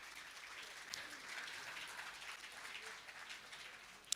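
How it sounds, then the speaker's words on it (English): Applause from a conference audience at a global financial investment summit, following a panel discussion; steady broadband clapping held at moderate level throughout, without any voices. "big round of applause"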